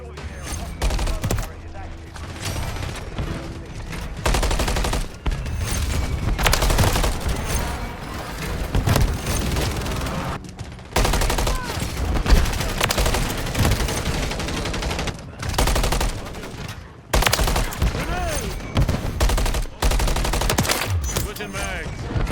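Rapid automatic gunfire rattles almost without pause in an Infinity Ward shooter game, dense loud bursts with short gaps and voices calling out beneath the shooting.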